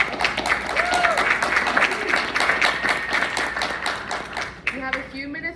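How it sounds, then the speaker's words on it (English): A round of applause from the audience at a greenhouse panel discussion, moderately loud and continuous, tapering off toward the end as a voice begins over the fading claps. "Can we give them a round of applause?"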